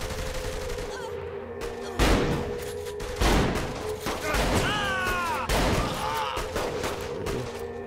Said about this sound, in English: Oh, I picked up a shotgun.